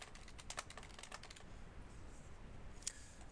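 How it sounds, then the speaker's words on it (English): Someone types characters on a computer keyboard in a rapid, steady patter of close key clicks, which thin out into a few scattered taps over a faint background hiss. "I'm typing these characters"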